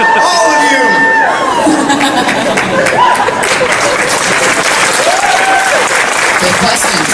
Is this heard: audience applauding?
yes